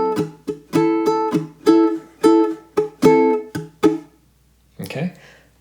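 Baritone ukulele played in a funk strumming pattern: a measure of sharp, rhythmic chord strums with choppy muted accents, close and clear, ending with a brief bit of talk.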